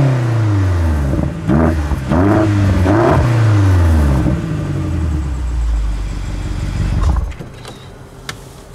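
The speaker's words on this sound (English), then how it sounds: "we do some revving." A BMW X5 M in Donington Grey is revved hard in several rising and falling bursts, with a deep, loud engine roar close by, before it settles back to idle and goes quiet.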